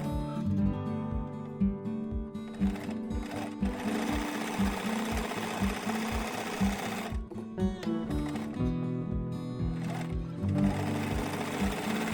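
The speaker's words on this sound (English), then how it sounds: "You can use this chain sewing technique to just keep sewing" A sewing machine runs in steady rapid bursts, chain stitching fabric face mask pieces one after another, with its motor whirring and needle thumping close and clear, briefly pausing and restarting.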